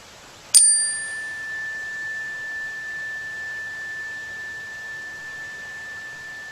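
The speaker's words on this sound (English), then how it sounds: "To complete our practice, I will sound a chime." A single meditation chime rings once to close a practice, a bright metallic strike followed by a long, pure ringing tone that fades slowly in a quiet room.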